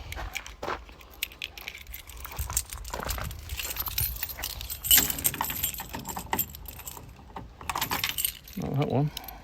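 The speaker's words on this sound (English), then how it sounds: "We have got an array of keys." A bunch of keys for a 2015 Land Rover Defender 130 Special Utility jangles up close in repeated bursts of bright metallic clinking, with a quiet voice speaking between them.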